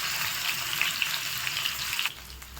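Paneer cubes frying in a pan for palak paneer give a steady, close, even sizzle that holds throughout, then dips briefly before resuming more quietly.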